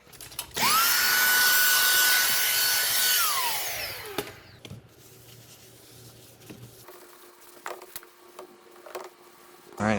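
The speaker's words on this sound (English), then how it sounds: "let's get this PVA off and sand her up and see if it got any harder" A power sander whines loudly against the bottom of a Seadoo jet ski hull, running steadily for a few seconds before spinning down, followed by quieter handling clatter and scraping close by.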